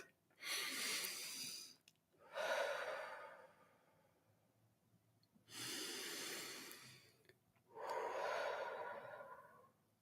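A group breathes deeply together in unison, four long audible breaths with airy inhales and exhales separated by short quiet pauses, close and fairly soft.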